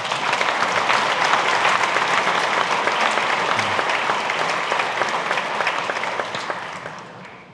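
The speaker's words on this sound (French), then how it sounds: "On peut les applaudir, s'il vous plaît." A church congregation at a parish priestly ordination applauds, steady dense clapping from many people throughout, fading slightly at the end.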